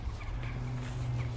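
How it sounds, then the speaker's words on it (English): A large turkey-like fowl gobbling in the woods, faint and distant, a brief rattling burst over quiet low outdoor rumble. "Big chicken in the woods."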